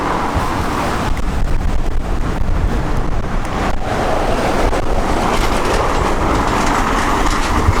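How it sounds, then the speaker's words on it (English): Thin-tyred road bike rolling over a brick paved road on the way to Adelaide's city centre, a steady loud rumble and rattle with wind buffeting throughout, no voices. "going on these sort of brick paved roads with a thin tired bike"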